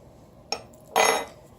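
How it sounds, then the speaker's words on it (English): A spoon stirs a chicken spaghetti mixture with granulated garlic, a brief clink followed by a louder wet scraping swirl lasting about a quarter second, close with no voices. "and give it a good stir"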